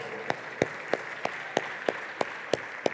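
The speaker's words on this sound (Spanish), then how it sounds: "Le damos un fuerte aplauso al Señor" A church congregation claps in unison, sharp evenly spaced claps about three per second over a soft background murmur, moderately loud and rhythmic.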